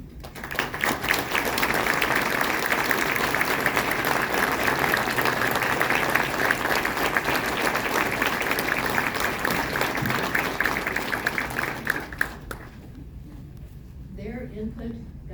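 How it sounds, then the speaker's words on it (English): An audience at a university presidential announcement gives the search committee a long, dense round of applause that holds steady for about twelve seconds, then fades out as a voice begins speaking. "I'd like for us all to give them a round of applause."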